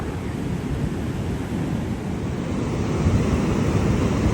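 High Atlantic surf in December, with strong currents along the beach, roars as a dense continuous wash of breaking waves mixed with wind buffeting the microphone, steady and loud throughout.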